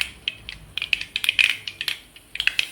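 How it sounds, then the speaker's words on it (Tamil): Mustard seeds splutter and pop in hot oil, a close burst of sharp, irregular crackles that comes in quick clusters. "கடுகு நல்லா பொரியட்டும்."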